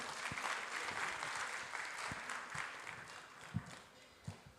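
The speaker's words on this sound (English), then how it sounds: "Please give a big round of applause." Applause at a medical conference in a hall, a moderately distant, steady patter of many hands clapping, with a few sharper individual claps near the end.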